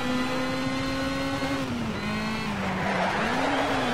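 A race car in Need for Speed Shift slides through a corner, its engine holding a steady droning whine that dips and rises while tyre noise hisses beneath, loud and continuous.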